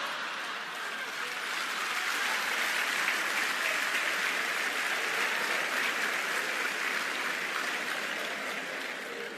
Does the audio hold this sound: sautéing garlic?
no